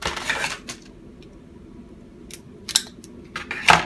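Small plastic bag of Lego pieces being opened and unwrapped, a few crisp crinkles and rattling clicks of loose plastic bricks in short bursts, close and fairly quiet with pauses between.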